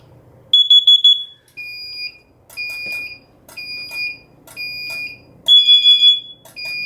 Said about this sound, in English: I will still do this CO detector, because everyone likes to see this.